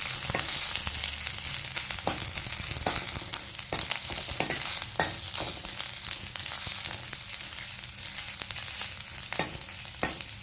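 Ginger and garlic sautéing in hot oil with mustard seeds, a loud, dense sizzle crackling steadily throughout, broken by frequent sharp pops and spatters, close and without speech.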